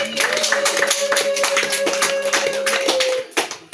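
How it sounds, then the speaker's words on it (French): A church congregation applauds in praise during a French-language Catholic sermon, a steady wash of many clapping hands sustained for several seconds, loud and close, then breaking off near the end. "Acclamons pour le Seigneur."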